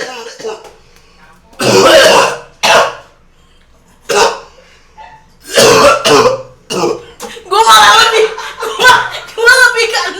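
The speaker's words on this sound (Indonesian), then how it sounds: "Batuknya gini." A person coughs on purpose in short forced bursts and throat-clearing rasps, close and loud, spaced apart with pauses and a few single coughs.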